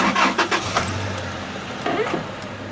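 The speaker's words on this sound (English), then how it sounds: "So we're go to start the engine up." A car engine cranks and fires up before settling toward idle, heard close and fairly loud with a brief jingle of keys near the start.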